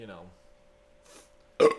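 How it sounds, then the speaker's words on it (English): A single big, loud burp erupts abruptly near the end, after a short stretch of a person talking and a quiet pause. "I just did a real big burp"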